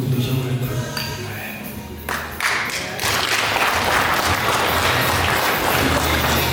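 Wedding guests at a Rwandan ceremony break into loud applause after a quieter stretch with some voices, then keep clapping as a dense, steady crowd.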